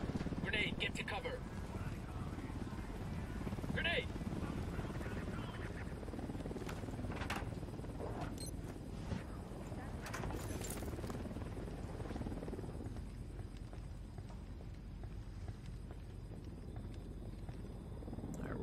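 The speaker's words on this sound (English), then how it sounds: "The helicopter. There it is." A helicopter in the video game Ghost Recon Wildlands gives off a constant heavy rotor thrum and rumble that fills the whole stretch, with voices talking over it and occasional sharp gameplay noises.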